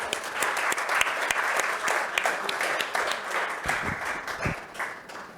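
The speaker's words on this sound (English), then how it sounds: "Can we please have a huge round of applause?" A crowd at the 90th Foundation Day celebration of a yoga institute in Mumbai gives a full round of applause, dense, close clapping held steadily for about five seconds.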